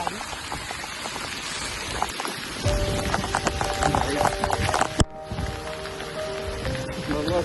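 Steady rain patters and splashes on the ground near a fort trail, a dense close hiss with scattered drops and a sharp knock partway through.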